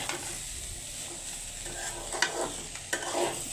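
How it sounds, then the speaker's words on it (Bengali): Poppy seeds fry and sizzle in a home kitchen pan with a steady crackle, broken by two sharper scraping stirs of a spatula near the end. "এই যে পোস্তা ভাজি করতেছে।"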